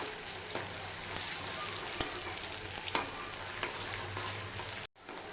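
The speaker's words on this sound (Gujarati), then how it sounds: "હવે આપણે આ કેપ્સિકમ લીધેલું છે કેપ્સિકમને લઈ લઈશું અને તેને પણ બરાબર સાતળી લઈશું" Capsicum sautés in a pan for homemade street-style pav bhaji, giving a steady close sizzle with occasional sharp clicks of stirring against the pan. The sound cuts out briefly near the end.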